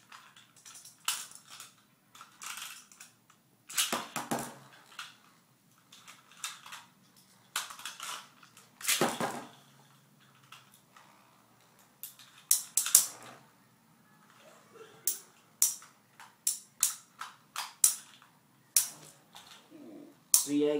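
Beyblade spinning tops, Black Sun Galaxy Pegasus BG145MS against Diablo Nemesis XD, clash in a battle stadium with sharp irregular clicks and scraping bursts, close and fairly faint, in scattered clusters across the round.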